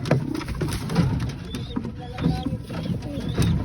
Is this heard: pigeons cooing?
yes